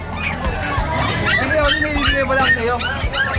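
Dogs at a pet market in Bocaue, Bulacan give short yips and whimpers amid a busy crowd of people talking, the animal sounds scattered and partly masked by the chatter.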